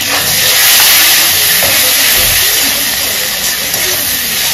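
Tomatoes drop into a hot pan and set off a loud, steady sizzle that holds broad and hissing from start to finish, close up.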